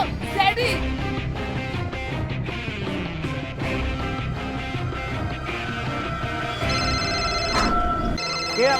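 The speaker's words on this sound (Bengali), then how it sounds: "কে আবার ফোন দিল রে?" A phone rings in a comedy parody scene, its repeated electronic tones sounding over background music and other busy sound, with a voice speaking briefly.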